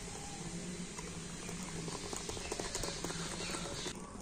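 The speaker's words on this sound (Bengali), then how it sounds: "তো আবার আমি ব্যাটারটা একটু ভালো করে ফেটিয়ে নেব" Batter with a pinch of salt is beaten in a bowl, producing a rapid, wet, bubbling patter of continuous strokes, fairly faint and close, with no talking.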